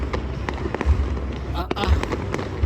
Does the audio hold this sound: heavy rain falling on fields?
no